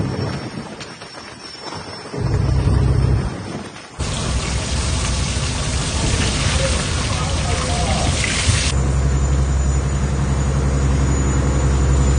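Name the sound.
heavy rain at sea on a fishing boat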